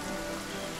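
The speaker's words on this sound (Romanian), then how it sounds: "Îmi place că unde mergem noi merge și ploaia." Rain pattering steadily on surfaces in the Divinity Original Sin video game, a brief, even wash of falling drops without voices.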